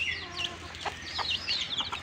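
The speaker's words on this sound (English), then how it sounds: "they all are happy and healthy chicken behind me." Backyard chickens cluck and chatter nearby, with overlapping short, rising calls from several hens in a steady stream over faint background noise.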